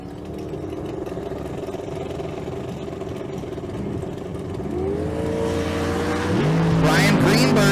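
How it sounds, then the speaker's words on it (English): A 1968 Ford Mustang drag car idles loudly at the starting line at the Street Car Super Nationals in Las Vegas, then its engine note climbs and surges into a hard, rising launch near the end. "Brian Greenberg in the 68 Mustang leaves real good"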